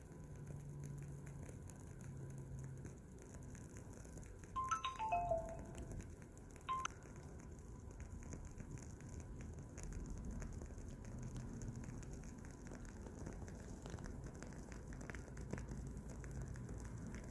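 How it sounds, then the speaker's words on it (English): A burning candle wick crackles faintly in a quiet room, giving soft scattered pops and a couple of sharper snaps over a low steady hiss. "see if you can hear that crackling sound."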